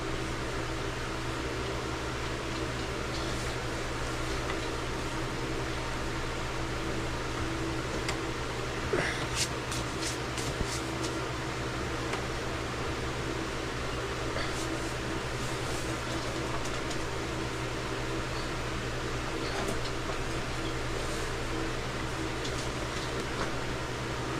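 Electric fan running steadily indoors, a constant whirring hum with broadband air noise and a low motor drone, unchanging for about twenty-four seconds with a few faint clicks.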